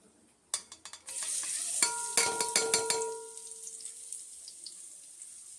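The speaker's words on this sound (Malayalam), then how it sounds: "എണ്ണ ചൂടായി വന്ന് ഇതിലേക്ക് നമുക്ക് ഉള്ളി ഇട്ട് കൊടുക്കാം." Sliced onions dropped into hot oil for a samosa masala: a few sharp clattering knocks, then a steady close sizzle with repeated utensil scrapes and knocks that gradually fade to a softer hiss.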